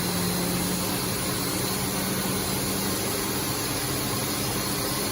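A Haas VF-2SS CNC vertical machining center spindle runs at high speed near its 12,000 RPM maximum, a loud, steady broadband whir with a constant tone, no voices.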